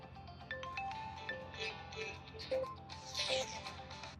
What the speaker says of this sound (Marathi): पप्पाच्या फोन